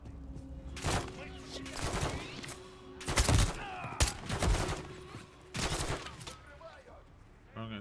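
Gunfire in the Modern Warfare 3 campaign comes in loud bursts and rapid volleys through the clip, some near and heavy, others crackling further off, with a voice talking in places.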